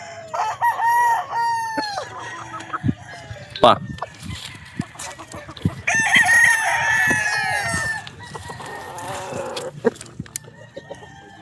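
Several gamefarm roosters, including bull stags and Gilmore Hatch fowl, crow repeatedly in an outdoor pen. The long crows overlap and recur at different distances, and someone speaks in short bursts between them.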